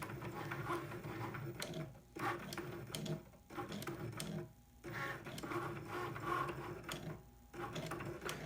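A Cricut Maker cutting machine draws with a pen, giving off a faint, continuous mechanical whirring and buzzing with brief dips and small clicks as the carriage moves back and forth.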